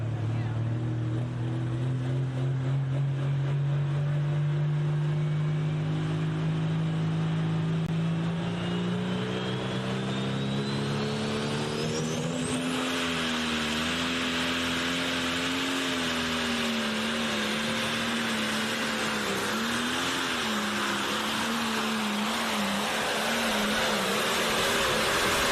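A pulling tractor roars under full load while dragging a sled down a tractor pull track, its loud engine drone rising in pitch and holding steady across the run, with an announcer talking over it.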